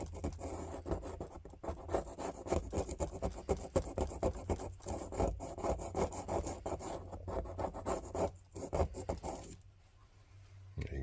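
Scratchy scraping and rubbing as grime and rust are worked off the back spring of a folding knife, a close, faint, continuous rasping with brief pauses.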